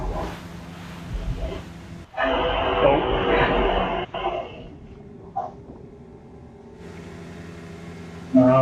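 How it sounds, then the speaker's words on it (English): A train rushes past in the Resident Evil 4 video game: a loud, noisy roar swells for about two seconds over low rumbling ambience, then fades back into quieter background. "I hope that train didn't give us away."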